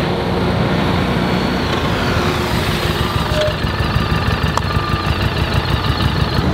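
Motorcycle engine running steadily at about 25 mph during a braking practice drill, a loud continuous drone with rumbling low end and no talk.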